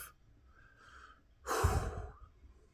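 A person takes a deep breath: a faint inhale, then a louder, breathy exhale close to the mic, with no speech.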